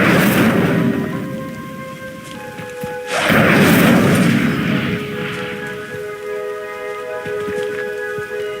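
Incendio fire spell cast in the Hogwarts Legacy video game, a loud roaring whoosh of flame bursting at about 3 s and fading over a couple of seconds, over steady ambient game hum and tones.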